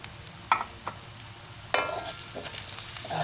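Chopped garlic and onion frying in a pan give a soft background sizzle, broken by a few sharp scraping stirs and clatters, close by with quiet gaps between bursts.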